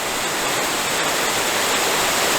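A waterfall on the Cougar Mountain triple waterfall loop rushes in a dense, steady hiss of falling water, loud and close, with no voices over it.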